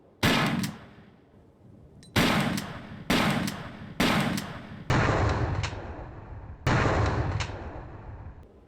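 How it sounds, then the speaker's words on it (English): Lara fires a shotgun in a Tomb Raider video game, six sharp booming blasts spaced about a second apart, each trailing off, with reloading between shots. "After Lara shoots the shotgun, she actually reloads it, as you can see."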